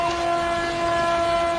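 A train horn blares steadily and loud as a train passes through a flock of sheep on the rails, one sustained tonal blast over a low rumble.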